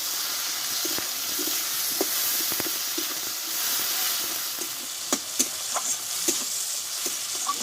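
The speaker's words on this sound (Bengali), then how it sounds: "দেখো আদা টমেটোটা আমি ভালোভাবে কষে নিয়েছি" Ginger and tomato sauté in a pan with a continuous, even sizzle and hiss, broken by scattered sharp clicks and scrapes of stirring.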